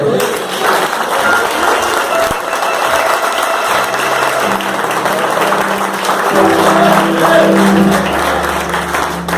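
A church congregation clapping for Jesus during a prayer service, loud continuous clapping with a rhythmic mechanical clatter mixed in, and tonal music or hum running underneath.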